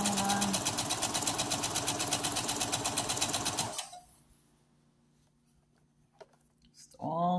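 A sewing machine stitches a half-inch seam on a neck pillow, running fast and steady up close for nearly four seconds before stopping into quiet, with a voice starting at the end.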